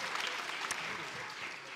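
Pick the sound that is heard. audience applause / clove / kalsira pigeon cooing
audience applause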